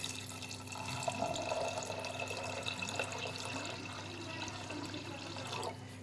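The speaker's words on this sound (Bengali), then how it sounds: "এবার দিয়ে দেব আমি পরিমাণ মতন জল।" Water pours steadily into a pressure cooker holding pigeon pea lentils, a quiet continuous splashing and trickling for about six seconds with a faint background hum.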